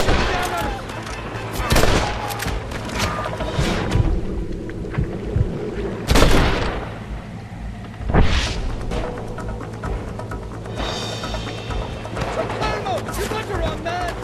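Gunfire in Red Dead Redemption, loud sharp shots cracking out at irregular intervals over a low rumbling background, with voices talking between the shots.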